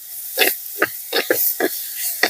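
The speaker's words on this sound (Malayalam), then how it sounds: "ഉപ്പിന്റെ പച്ച മണം പോകാൻ വേണ്ടിയിട്ട് ഈ എണ്ണയിൽ ഇങ്ങനെ ഇളക്കുന്നത്" Banana flower being stirred in hot oil, with about six distinct scraping strokes at an uneven pace over a steady frying hiss, close and fairly loud.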